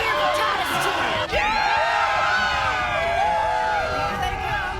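A crowd cheering for Titus, a swell of whoops, shouts and excited voices close by, with an announcer-like voice over a bright tonal backdrop, sustained through the moment.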